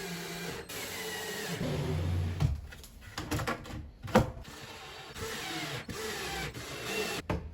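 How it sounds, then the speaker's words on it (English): Cupboard panels for hidden shoe storage near a front door are screwed into place, with a steady whirring drive and grinding, rasping bursts plus a sharp knock, close and fairly loud, with no talking. "I screwed them into place at the front"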